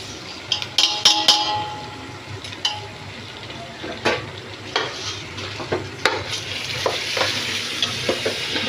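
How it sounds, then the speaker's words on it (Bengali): Onion and rice stirred in hot oil in a pot for Bangladeshi polao: a close, soft sizzle runs underneath irregular scraping strokes and sharp metallic clinks of the spoon against the pan. "পেঁয়াজটা ভাজা যাবে না, জাস্ট তেলের মধ্যে গরম হয়ে গেলে আমি চালটা দিয়ে দিব"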